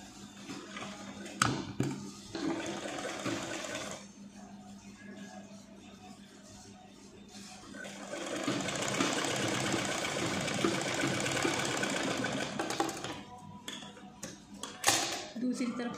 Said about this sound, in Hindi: ऐसे सिलाई लगा लेंगे।